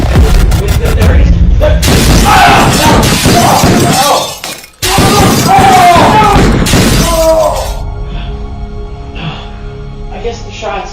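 Several loud gunshots ring out in a tense indoor confrontation, sharp cracks and booms with shattering, crashing impacts, followed by a sudden brief drop to near silence and then a lingering rumble as agitated voices talk over it.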